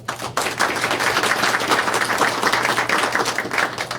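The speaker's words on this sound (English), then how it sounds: "Please join me in a round of applause." A round of applause at a city council meeting welcoming a newly elected alderman, a burst of clapping from the room that rises quickly and holds steady, with a low hum running underneath.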